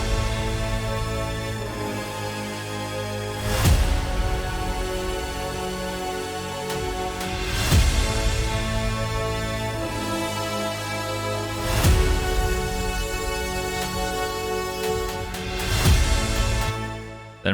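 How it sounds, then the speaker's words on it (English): Epic trailer percussion of big hits and booms, heavy impacts landing roughly every four seconds over a sustained orchestral bed, loud and close with no speech. "We have our percussion part, just consists of our hits and booms."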